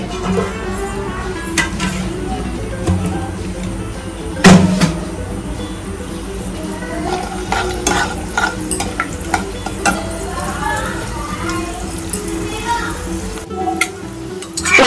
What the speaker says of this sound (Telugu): కొద్దిగా శనగపప్పు, కొద్దిగా మినపప్పు, కొద్దిగా అంతా ఆవాలు, వాటిని దోరగా వేయించుకోవాలండి.